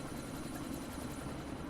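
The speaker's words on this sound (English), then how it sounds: "That chopper's about to take off!" Helicopter rotors churning in Deus Ex: Mankind Divided, an unbroken low throbbing hum with a faint high whine on top, steady and fairly quiet, no voices.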